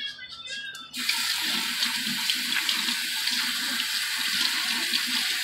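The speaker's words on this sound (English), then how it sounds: "Gotta rinse my hands if I touch my phone" A bathroom tap suddenly gushes into a sink as hands are rinsed under it, a loud steady rush of close running water that continues alone after a brief moment of quieter sound.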